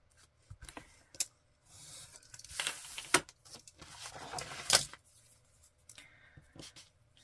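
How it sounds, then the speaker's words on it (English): Scissors trim a small excess strip of paper from a junk journal page, making quiet, close snips and crisp paper rustles in scattered bursts, with light handling noise between them. "Just trim off this extra bit."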